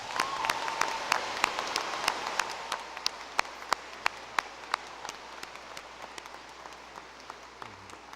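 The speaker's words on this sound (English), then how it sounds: "Please give them a round of applause." Applause for summa cum laude graduates at the 2018 Hastings College commencement ceremony, a steady wash of crowd clapping with sharp individual claps standing out, holding for several seconds before gradually thinning toward the end.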